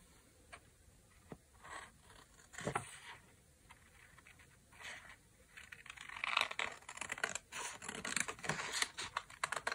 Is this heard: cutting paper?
yes